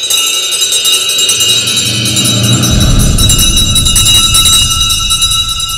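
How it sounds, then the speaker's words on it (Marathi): Theatre first bell before a Marathi stage play begins: a loud, sustained ringing rings on continuously and close, with a low rumble building underneath partway through. "ए विठोबा, पहिली बेल दे रे."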